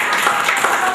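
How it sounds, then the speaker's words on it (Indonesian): An audience at an ASEAN Community 2015 outreach session claps, a short burst of dense, close hand clapping. "Beri tepuk tangan dulu dong untuk Bapak Arto."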